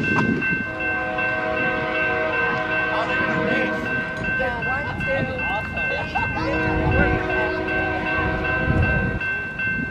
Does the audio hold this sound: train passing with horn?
yes